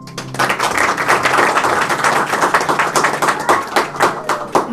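A congregation at a Hindi-Urdu church sermon claps to welcome guests, a loud burst of rapid, dense clapping that keeps going steadily throughout.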